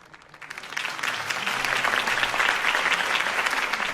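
Crowd applause after Harvey Dent's campaign speech in the Batman Telltale game, rising quickly from quiet into a dense, sustained roar of clapping that stays loud to the end.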